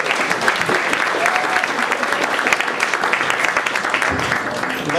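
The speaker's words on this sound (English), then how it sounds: "How about a nice round of applause for Steve and Sean?" A comedy club audience applauds loudly and continuously, dense clapping with a few voices mixed in.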